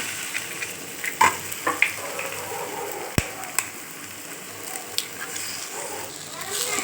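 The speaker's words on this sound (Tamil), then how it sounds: "இப்போ முட்டையை உடச்சி ஊற்றிக்கலாம் நான் நாலு முட்டை உடச்சி ஊற்றுறேன்" Eggs are poured into a hot frying pan of salt- and chili-powder-seasoned onions for egg kothu parotta, giving a moderate, steady sizzle broken by a few sharp clicks and knocks.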